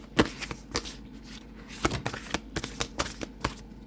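A barely used tarot card deck being shuffled by hand, a quick run of crisp, irregular riffling and slapping card sounds, close up with no talking.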